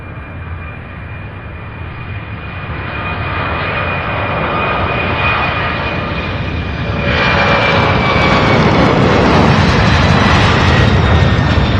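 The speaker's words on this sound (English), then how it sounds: "Beautiful takeoff, that 767." A Boeing 767 jet takes off at Louisville International Airport. Its engines give a loud, steady roar that swells and grows stronger as the aircraft climbs away, with no voices.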